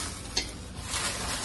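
Chilli masala warming in a pan with a soft continuous sizzle and a brief scrape or stir, heard close up with no talking.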